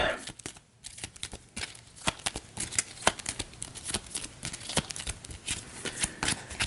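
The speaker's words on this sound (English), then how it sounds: "We'll shuffle all of these up." Cards shuffled for a solo tabletop board game, a rapid run of crisp riffling and snapping flicks with short pauses, close and fairly quiet under faint background noise.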